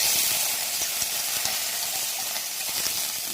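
Broken dried red chillies sizzle in hot oil, a close, even frying hiss with small crackles scattered throughout and no voices.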